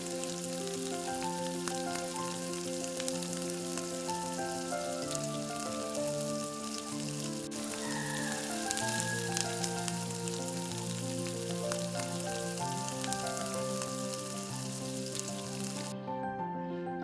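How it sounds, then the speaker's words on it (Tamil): Masala-coated boiled eggs fry lightly in oil in a pan, a continuous soft sizzle running under steady background music for the whole stretch. "லைட்டாக அந்த மசாலா முட்டையில் சேர்ந்தால் போதும். ஸோ லைட்டாக வறுத்து எடுத்துக்கோங்க."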